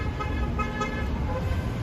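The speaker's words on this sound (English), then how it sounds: "a lot of people honk for no reason" A car horn toots amid steady street traffic noise in Manhattan, New York City, at night, the honk fairly close and sustained over the rumble of engines.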